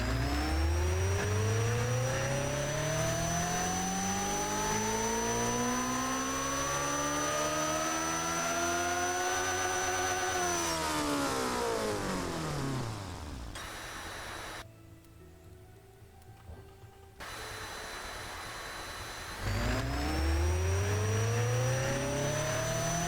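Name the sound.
twin-charged engine dyno run in Automation video game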